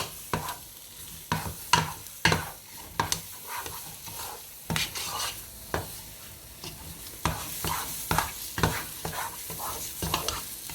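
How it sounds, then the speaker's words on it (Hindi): Carrot barfi mixture cooking in a pan over a low flame, stirred with repeated scraping strokes that arrive in a loose, irregular rhythm over a soft, continuous sizzle. "इसको हम अब पका रहे हैं, इसके लिए आपने आंच थोड़ी सी हल्की रखनी है"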